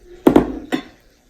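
A spoon clinks three times against the side of a container while stirring yogurt starter into milk: two quick close knocks, then a third after a short pause, each with a brief ringing tone.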